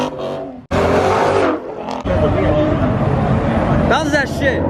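A Dodge Hellcat revs loudly close by at a rowdy car meet, its engine roar joined by what sounds like tire squeal, with a brief dip before a sustained, heavy burst of sound; people talk and shout over it.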